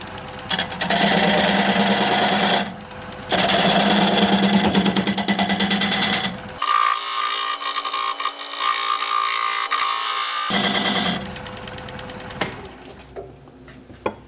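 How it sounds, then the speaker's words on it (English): Wood lathe spinning a buckeye blank while a diamond point tool squares the sides of a tenon, loud close machine whine with gritty cutting bursts that stop and restart, including one longer pass in a thinner tone. "I'm going to use this diamond point tool to square up the sides of the tenon."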